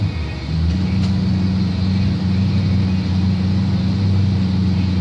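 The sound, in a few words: junior drag racing cars revving at race start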